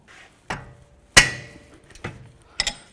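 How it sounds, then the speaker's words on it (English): A rubber mallet knocks a 19mm wrench fitted on a rear brake bolt of a 2014–2017 Infiniti QX50, giving four separate sharp, close knocks spaced about half a second apart, the third the loudest, with no talking. "I'm going to use a rubber mallet to give this a nice bonk"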